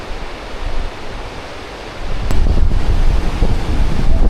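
Wind and rushing water at the top of a misty, breezy waterfall, a broad steady roar with buffeting wind that swells louder midway and stays close and strong.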